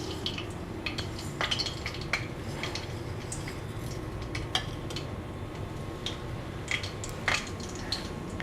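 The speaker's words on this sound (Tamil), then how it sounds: "கடுகு பொரிஞ்சிருச்சு" Mustard seeds splutter in hot ghee and oil in a pan, giving scattered sharp pops and crackles over a low sizzle. The bursts are irregular and close, with no voices.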